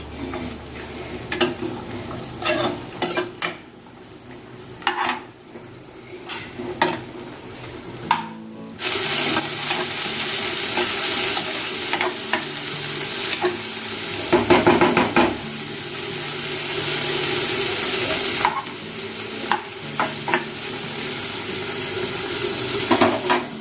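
Broken cashew pieces fry in a pan for fried rice, giving a continuous sizzle broken by scraping, clattering stirs of a spatula against the metal, near and loud, with no talking.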